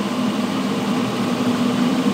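A permanent magnet generator spins at a test speed, giving a steady, even mechanical drone with a constant low hum and no pauses or voices.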